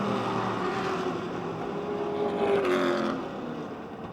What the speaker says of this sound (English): moving around the outside of rookie Schwartz, who has just moved up out of the super compact division